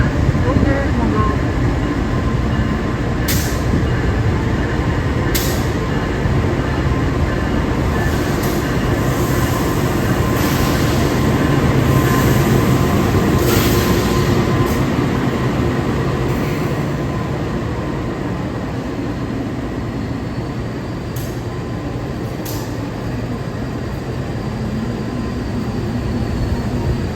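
Brawijaya passenger train running through Kertosono station, a steady loud rumble of wheels and cars rolling past continuously, with brief sharper clacks and a faint voice at times.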